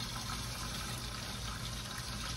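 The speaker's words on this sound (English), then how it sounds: "Put my water in here." Tap water poured into an RWFLAME countertop ice maker, a steady close gushing fill that continues without a break.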